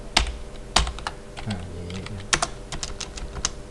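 Someone types on a computer keyboard while writing a C++ calculator program, producing a close, crisp series of key clicks at an uneven pace, with a few louder presses standing out over a faint steady hum.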